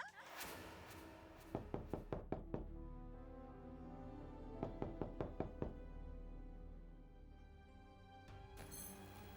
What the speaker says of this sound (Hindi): ये इतनी रात को दरवाजा कौन खटखटा रहा है?